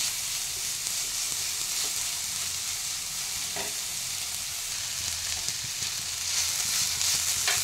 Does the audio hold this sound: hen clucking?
no